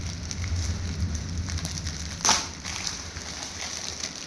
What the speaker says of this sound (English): Now let's unwrap it.